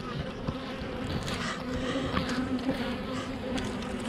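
A dense, close buzzing of many honeybees humming together at a hive, steady and continuous without speech.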